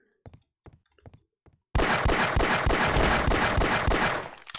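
Sustained automatic gunfire from a weapon in the 1999 shooter Half-Life: Opposing Force, a loud dense burst starting abruptly after a few faint scattered taps and running continuously for about three seconds.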